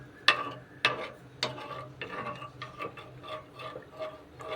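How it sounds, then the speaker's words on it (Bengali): A spoon stirs a thickening mixture in a pan over a high flame on the stove, giving a few sharp scraping clicks followed by softer repeated scrapes and a faint bubbling underneath. "এরকম ভাবে নাড়াতে হবে।"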